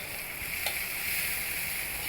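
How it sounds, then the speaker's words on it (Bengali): Chopped onion frying in oil for a tatkini fish curry, giving a steady close hiss that runs without a break and has one faint scrape partway through. "এর জন্য আমি এই তেলের মধ্যে দিয়ে দিচ্ছি পেঁয়াজ কুচি"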